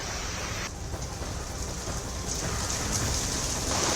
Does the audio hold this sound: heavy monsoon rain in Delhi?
yes